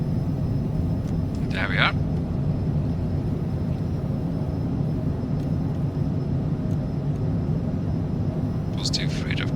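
An airliner accelerates down the runway at London Heathrow and rotates at about 110 knots, a steady broad engine roar running throughout while a voice speaks briefly twice.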